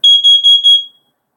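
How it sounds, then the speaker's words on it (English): Combined smoke and carbon monoxide detector sounding during a test, four rapid loud high-pitched electronic beeps close by, then silence. "This is only a test. Testing smoke. Testing carbon monoxide."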